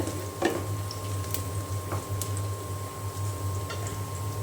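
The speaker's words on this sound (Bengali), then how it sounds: "এখন এই যে পেঁয়াজটা ভাজা হচ্ছে।" Onions frying in hot oil in a wok for a prawn curry with pointed gourd and potato, giving a soft, even sizzle with a few sharp clicks and taps from stirring, fairly quiet and without speech.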